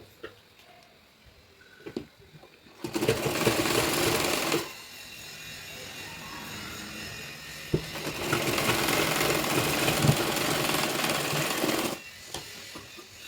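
A sewing machine stitches a size-40 blouse in two loud, steady runs of rapid needle clatter, separated by a quieter pause of handling noise.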